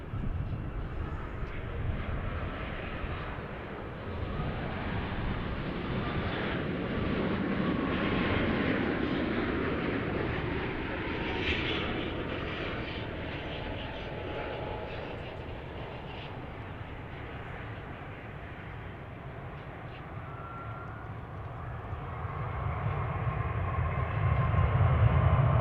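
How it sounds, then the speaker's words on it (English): A Boeing 787 Dreamliner arriving from Charles de Gaulle lands at DFW airport, its broad engine roar rumbling steadily from a distance for a long stretch and swelling louder toward the end, with no voices over it. "Here comes the Dreamliner from Charles de Gaulle"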